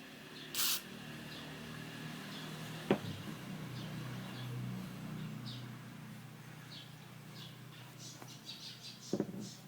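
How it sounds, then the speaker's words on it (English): WD-40 is sprayed onto a loose washing machine motor shaft, giving a short, sharp hiss near the start. Quieter clicks and handling knocks follow on their own. "Better if we put in a WD-40. Let me get the WD-40."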